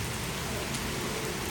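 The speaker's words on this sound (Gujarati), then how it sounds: "વરસાદ શરૂઆત થઈ ગઈ છે" Heavy rain pours down steadily, a dense even hiss of drops drumming on surfaces with no pauses and no voices.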